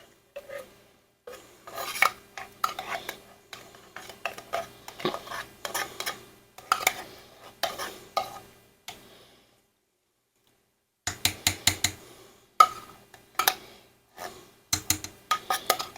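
A spoon scrapes cream of mushroom soup out of a metal can into a pot, making repeated quick clinks and scrapes in short bursts, then a pause before more sharp metallic scraping.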